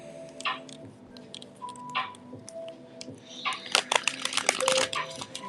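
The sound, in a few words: shuffling playing cards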